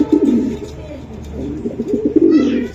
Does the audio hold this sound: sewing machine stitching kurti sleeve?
no